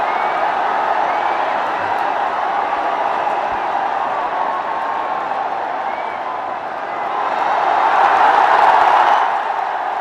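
A large cricket crowd murmurs steadily at a Ranji Trophy match between Delhi and Railways, a broad distant roar that swells louder near the end with faint cheers.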